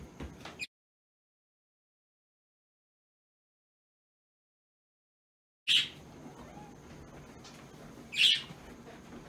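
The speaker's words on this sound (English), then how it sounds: "Quiet, birds." Birds chirp outdoors near a shoreline, two or three short sharp calls spaced apart, separated by a long stretch of silence.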